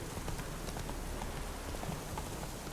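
Horse hooves clip-clop steadily over ground in the Witcher 3 video game, a soft continuous patter of footfalls with faint background ambience and no talk.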